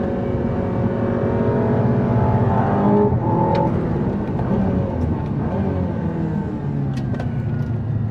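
Aston Martin Valhalla hypercar engine running loudly nearby, a continuous dense roar with rising and falling pitch as it revs, steady throughout with a couple of faint sharp clicks.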